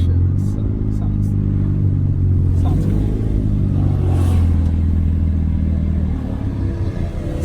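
Car fitted with a new downpipe exhaust, revving loudly up close with a deep, rumbling engine note and sharp popping crackles, the engine sound continuous throughout under occasional voices.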